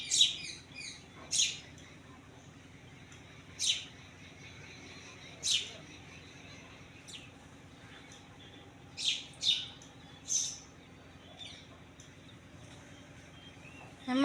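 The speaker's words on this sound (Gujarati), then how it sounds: "જો અમારા ઘરે ચકલીઓ આવી ગઈ છે, તમને અવાજ તો સંભળાતો જ હશે" House sparrows chirping around a home, short bright bursts of tweets recurring every second or two, close and clear over a quiet background hum.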